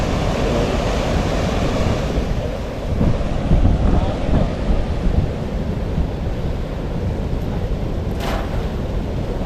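Water rushes at a waterfall in Taiwan as a loud, steady broadband roar that barely changes throughout, with a brief surge partway through. No one speaks.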